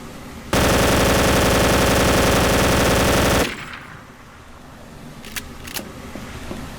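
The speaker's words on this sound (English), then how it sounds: "here's some footage of me using a modernized version of the MG42 to mow down some asshole in PUBG." A modernized MG42 machine gun fires one continuous, extremely rapid burst for about three seconds in the shooter game PUBG, loud and harsh, followed by quieter ambient game noise with a few faint distant cracks.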